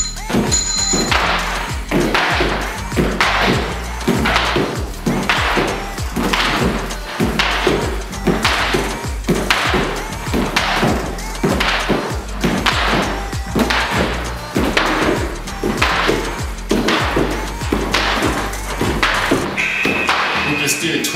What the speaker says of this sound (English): Next, we're gonna do front to back jumping jacks.